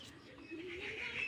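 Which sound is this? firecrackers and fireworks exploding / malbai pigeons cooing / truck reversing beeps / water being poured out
malbai pigeons cooing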